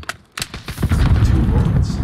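A few sharp gunshots from a weapon in Call of Duty Warzone, followed by a heavy, booming rumble of more gunfire and impacts, all close and loud.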